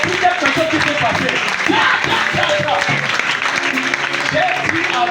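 A church congregation applauds to acclaim Jesus, dense sustained clapping filling the room for several seconds with voices mixed in beneath it.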